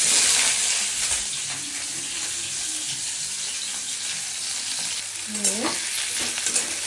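Jackfruit fries in hot oil with a steady, close sizzle, and a spoon stirs and scrapes the pan now and then, with a few louder clatters near the end.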